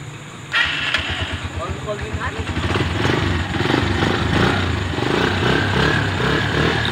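A TMX 125 Alpha motorcycle engine, with a replaced stator, cranks and catches on one click, then runs with a steady, loud idle, with talking over it.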